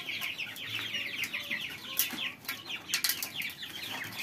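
Young free-range chickens cluck, cheep and flap their wings at close range, a busy overlapping chatter broken by sharp bursts of wingbeats.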